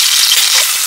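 Garlic paste frying in hot oil with cumin and mustard seeds for a vegetable dish, a steady close broadband sizzle with no pauses.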